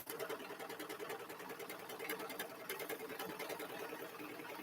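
A sewing machine running a quilting stitch, its needle hammering in a fast, steady mechanical rhythm at close range, unbroken throughout.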